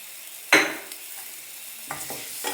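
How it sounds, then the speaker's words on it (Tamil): Crushed peeled garlic sautés in a pan, one loud scrape of the spoon followed by a soft ongoing sizzle and a few lighter stirring strokes near the end, close and clear with no talking. "சேர்த்துட்டு நல்லா வதக்கிக்கலாம்"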